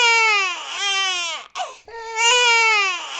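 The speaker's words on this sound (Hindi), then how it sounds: "तभी अंदर से बच्चे के रोने की आवाज आती है।" A newborn baby crying loudly and close, two long wailing cries split by a brief catch of breath, with no other voices.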